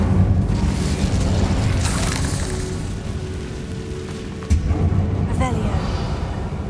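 Incendio fire spell cast in the Hogwarts Legacy video game, a loud roaring, crackling burst of flame that runs steadily and then flares again with a sharp second whoosh near the end.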